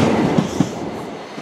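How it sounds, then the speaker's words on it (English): A Bristol to London high speed train passes at Swindon station, a steady loud rumble of rolling stock with rhythmic clickety-clack wheel beats, no voices. "I think this is a Bristol London high speed train."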